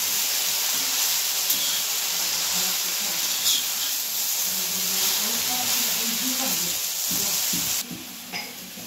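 Amaranth greens fry in hot oil with a steady, close sizzling hiss and occasional stirring scrapes, continuing without pause until a slight drop near the end.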